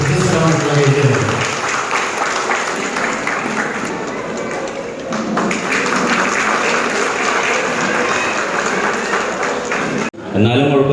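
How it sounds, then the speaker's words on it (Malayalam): Energetic applause for a first-rank student fills a hall, loud and continuous for about ten seconds with dense clapping, ending abruptly. "വളരെ ഊർജ്ജസ്വലമായിട്ടുള്ള കയ്യടിയാണ്"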